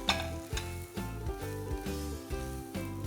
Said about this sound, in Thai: ผัดให้แห้งลงเล็กน้อยนะครับ สุดท้ายใส่ใบโหระพาสดลงไปครับ